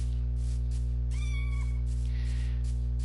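A cat meows once in a clear, rising-falling call over a steady electrical hum, close and fairly loud, with no talking.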